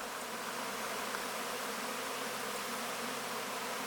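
Honeybees pouring out of a homestead hive ahead of swarming, a dense, continuous buzzing drone from many insects at once, steady and fairly close, with no speech over it.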